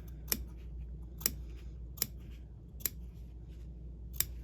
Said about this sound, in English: it's easy to cut too far and cut through your stitch line